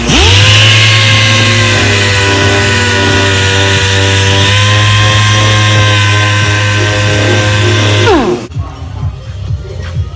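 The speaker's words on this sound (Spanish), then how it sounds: "Y ahora voy a lijar los faros." A power sander works on the headlights of an Alfa Romeo Brera. It holds a loud, steady, close-up whine for about eight seconds, then winds down and stops.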